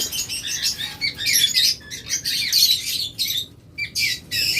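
Close-ringed local-breed lovebirds in a shop chirp and squawk in rapid, overlapping bursts, loud and near, with brief pauses between flurries and some wing flutter.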